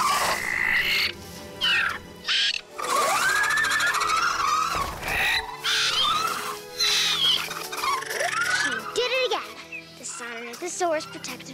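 Loud, shrill dinosaur squawks and croaking calls from a nesting dinosaur facing a Troodon repeat throughout, layered over busy background sound and occasional voices.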